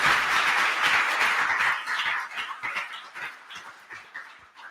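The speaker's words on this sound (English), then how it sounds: "Round of applause for Mark." An audience at a meetup bursts into applause that is loud and dense at first, then thins out into scattered, fading claps.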